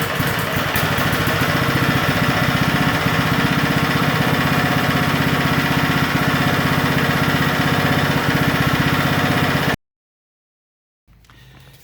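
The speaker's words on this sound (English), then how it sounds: "After reinserting the dipstick, I start the engine again to make sure no oil is leaking." A lawn mower engine restarted after an oil check runs at a steady, loud idle close by for nearly ten seconds, then cuts off abruptly into silence before a faint rumble returns.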